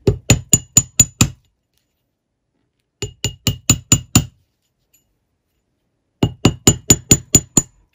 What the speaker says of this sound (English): it is just that tapping, and it's the weight of the hammer that comes down